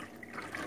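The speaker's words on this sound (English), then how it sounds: "you're gonna pour your full 16-ounce bottle" 3% hydrogen peroxide poured from a 16-ounce bottle into a container, a brief soft liquid splash and gurgle, close and quiet.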